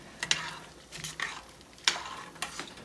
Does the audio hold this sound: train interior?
no